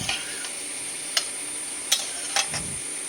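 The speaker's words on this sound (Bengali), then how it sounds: "এবার আমি সব গুঁড়ো মানে নুন হলুদ আর চিনিটা ভালো করে এই সবজিটার সঙ্গে মিশিয়ে নিচ্ছি" A spoon mixes salt, turmeric and sugar into ridge gourd and potatoes in a pan, giving a few sharp scraping taps over a low, steady sizzle.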